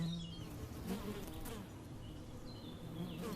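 Steady buzzing of many forager honeybees close by as they return to their hive, a dense continuous hum with individual insects passing.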